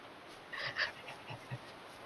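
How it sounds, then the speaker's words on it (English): A person pants over Discord voice chat during a Don't Starve Together session, giving a few faint, breathy huffs in quick succession against a quiet, hissy line. "If I can hear you panting through Discord"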